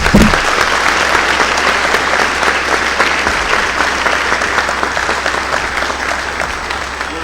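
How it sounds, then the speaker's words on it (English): Crowd at a sports awards ceremony bursting into loud, dense applause right at the start, sustained at a steady level with individual claps crackling through, and no talking heard. "that deserves another round of applause"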